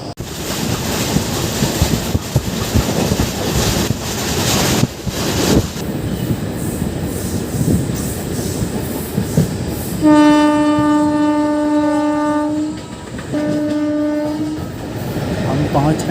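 Intercity Express 14102 rolling along with steady rumble and wheel noise, then a loud, clear train horn blasting from about ten seconds, a long blast followed by a shorter second one.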